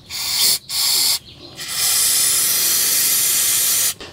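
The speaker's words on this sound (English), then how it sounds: "we can get in here with some brake clean and brush that out and get this really clean" Brake cleaner sprayed from an aerosol can onto a car's rear brake caliper in a series of loud, close hissing bursts: two short blasts, a pause, then one long sustained spray.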